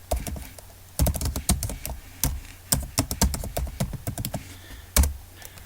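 Rapid, uneven typing on a computer keyboard while entering text in Microsoft Word, sharp close key clicks in bursts with short pauses and no talk.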